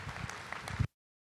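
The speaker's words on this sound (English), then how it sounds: "please give them a big round of applause" Brief, fairly quiet applause from spectators at a market goat show during the Rodeo Austin livestock event, scattered claps lasting under a second before cutting off abruptly.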